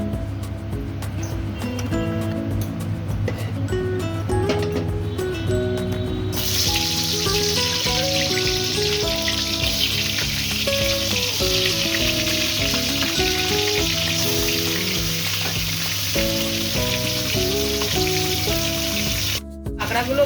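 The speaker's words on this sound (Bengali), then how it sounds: "সমুদ্র ক্যাংড়াগুলো আমি ভেজে নেব" Sea crabs fry in hot mustard oil with salt and turmeric, giving a steady, loud sizzling crackle that continues throughout with occasional spattering pops.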